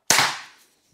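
A single sharp crack from an X-Bow FMA Supersonic Tactical crossbow test shot, loud and close, with a brief ringing decay and no voices.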